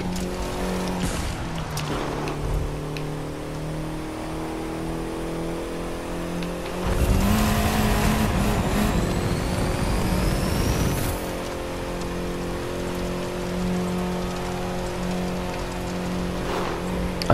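MINI Cooper S Countryman driving in The Crew 2 on a Grand Canyon road trip: a steady engine drone with shifting revs, and a louder rough surge partway through as the car bumps or skids before settling back to cruising.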